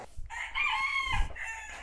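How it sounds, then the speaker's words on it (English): A rooster crows loudly and close by, just outside a door, one drawn-out call standing alone. "if you can hear the roosters really loudly"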